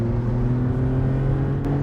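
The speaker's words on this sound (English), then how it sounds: "This car feels plenty fast at partial throttle, but at full throttle, it struggles to keep the power down" A Maserati MC20 Cielo supercar accelerates at full throttle, a loud, steady engine drone with strong low tones that holds close throughout, with no talk.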